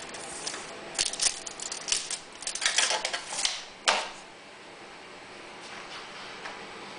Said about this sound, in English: I'm going to measure 12 inches down from the connector and cut the hose right here.